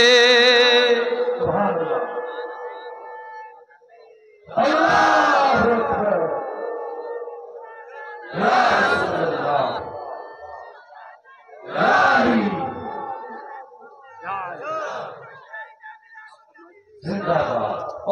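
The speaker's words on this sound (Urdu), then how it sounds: "اللہ کے بندے کھڑے ہو کے نعرے لگانا تب جا کے مزہ آئے گا" At a milad gathering, a leader's shouted call alternates with a large crowd roaring religious slogans back in unison, about five loud bursts separated by short pauses.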